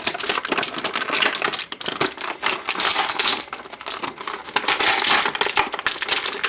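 Plastic packaging of a Marvel Legends Morbius action figure is pried open, a close run of sharp crinkles, snaps and clicking rustles, loud and uneven, with no talk.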